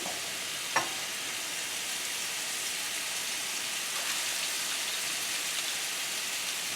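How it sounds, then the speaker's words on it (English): Tuna steak searing in a very hot pan, giving a steady, dense sizzle that holds evenly throughout, with one sharp tap near the start and no voices. "this is popping, that's nice and hot. With this tuna steak."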